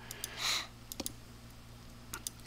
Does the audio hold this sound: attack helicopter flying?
no